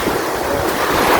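Sea surf rolls steadily onto a beach, a dense, loud wash of waves with wind buffeting the microphone and no pauses or voices.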